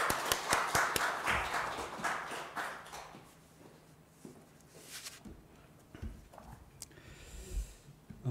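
A small church congregation at a new-members seminar gives a short burst of scattered clapping to welcome the pastor. It is loudest at first and thins out within about three seconds, leaving a quiet room with faint stray sounds.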